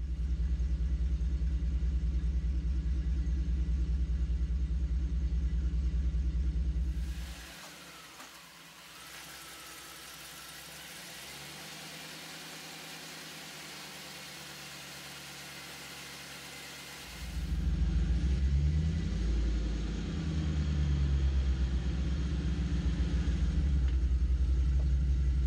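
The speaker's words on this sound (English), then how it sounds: "Now let's see this drive shaft spin." A vehicle's engine runs with a steady low rumble while its drive shaft spins on a pinion angle setup, the sound dropping away for about ten seconds midway before the close idling rumble returns.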